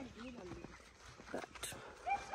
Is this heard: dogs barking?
yes